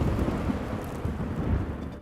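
A dense, continuous wash of heavy rain and low rumbling thunder marks an approaching storm in a video game, loud and steady throughout with no speech.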